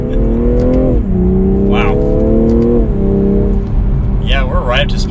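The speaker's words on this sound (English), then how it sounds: "So if we just go ahead and get up to speed now, 1st gear, get to 2nd." A 2021 BMW M340i accelerates hard through first and second gear, the engine note rising, dropping at each upshift and climbing again, loud and close from inside the cabin, with a brief exclamation from a person.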